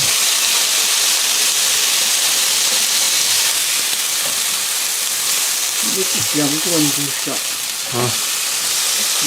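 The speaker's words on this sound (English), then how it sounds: "So just give the beef a good stir there." Beef and ginger sizzle loudly in a hot pan, a steady dense frying hiss with a few stirring scrapes toward the end.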